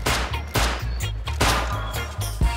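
Rapid bursts of gunfire from the survival video game Rust, about half a dozen loud, punchy shots in quick succession, each with a deep low boom, close and unaccompanied by talk.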